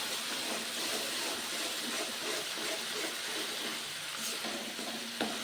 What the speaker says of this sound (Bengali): তার জন্য আমি প্রথমে তেলে একটু ফ্রাই করে নিলাম।